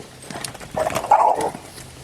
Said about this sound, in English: I got a rooster and a dog fighting with each other.